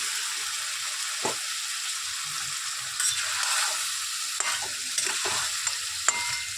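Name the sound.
boiled mutton added to pan, frying and stirring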